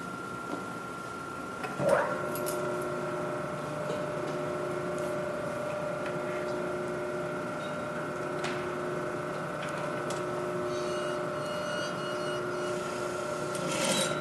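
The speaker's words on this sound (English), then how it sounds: "I'm now going to stitch the seam allowance down" A sewing machine stitches down a seam allowance on a French or flat felled seam, its motor whirring steadily and evenly close by, with a brief click near the start and no talking.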